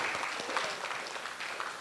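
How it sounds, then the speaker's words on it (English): A brief burst of audience applause, many hands clapping at a moderate distance, fairly soft and continuous. "Can you give me a big round of applause for answering questions perfectly?"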